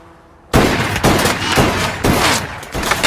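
Heavy gunfire from a film firefight starts abruptly after a short quiet moment, then keeps going as a loud, dense barrage of overlapping shots with rapid bursts for about two and a half seconds.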